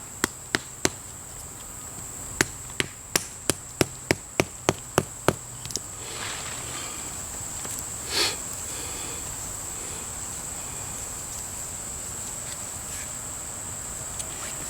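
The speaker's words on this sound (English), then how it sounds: "Find a stick, hammer it into the ground." A stick stake is hammered into the ground while pitching a tarp tent outdoors, giving about a dozen sharp wooden knocks in quick, fairly even succession, close and loud, then quiet outdoor ambience with insects chirping steadily behind.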